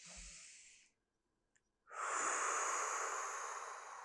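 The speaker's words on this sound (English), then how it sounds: "So you're going to take a nice big breath in. You're going to exhale." Deep breaths in and out during a seated hip mobility stretch: a soft airy breath, a near-silent pause, then a long, loud, close exhale of rushing air.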